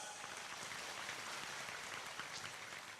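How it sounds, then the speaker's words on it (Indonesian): Faint, even applause from an audience at a religious study gathering, a soft rain-like patter of many hands clapping steadily for a few seconds, distant and quiet. "Oke, tepuk tangan lagi yang ikhlas semuanya."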